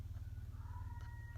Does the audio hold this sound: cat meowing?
yes